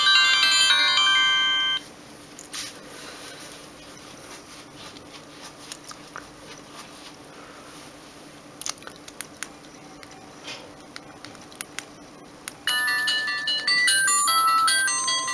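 A Samsung X100 mobile phone plays its electronic startup melody while rebooting. A bright, beeping tune sounds at the start, quiet ticks and taps follow, and then the melody plays again near the end, with no voices.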